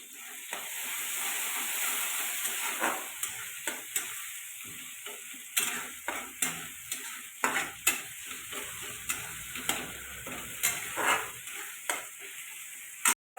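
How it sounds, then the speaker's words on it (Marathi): Tomatoes frying in oil with ginger garlic paste for a farsan curry, a soft continuous sizzle under a steady series of spatula clicks and scrapes against the pan, quiet and close. "टमाटर चांगलं फ्राई होते अपन थोड़ी से ना अदरक लसून पेस्ट टाकूया"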